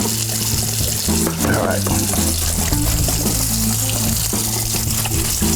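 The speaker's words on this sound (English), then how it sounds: "Let's rinse them. Let's get all that starch out of there." Tap water runs steadily over starchy food being rinsed in a kitchen sink, a continuous close gushing wash with someone speaking briefly over it.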